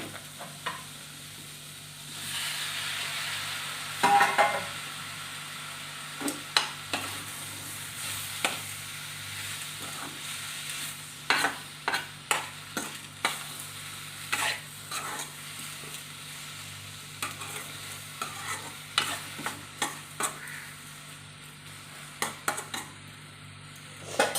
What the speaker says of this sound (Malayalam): ഇനി നമുക്ക് തക്കാളി എടുത്ത് തട്ടാം